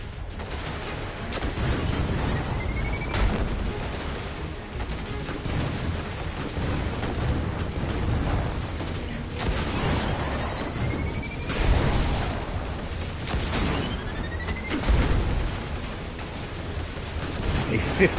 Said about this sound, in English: A 50-round scorch cannon.